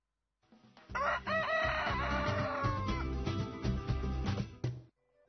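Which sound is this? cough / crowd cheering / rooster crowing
rooster crowing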